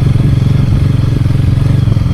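Dirt bike ridden over a mountain dirt trail near Barcelonnette in the Alps, with the rider standing on the pegs: a loud, close, steady engine drone with rapid pulsing and clattering.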